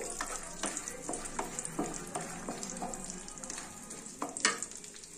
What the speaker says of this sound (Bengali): আঁচটাকে খুব কম রেখে এটা একটু নাড়াচাড়া করে নেব।